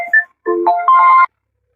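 A mobile phone ringtone plays a short melodic electronic phrase, loud and close, with a few separate tones followed by one sustained note before it stops.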